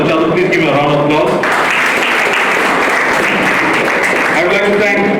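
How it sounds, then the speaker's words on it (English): Audience at a history talk on Goa's Inquisition breaks into loud, sustained applause, the clapping swelling after a spoken voice at the start and continuing steadily, with voices heard near the end. "Please give me a round of applause."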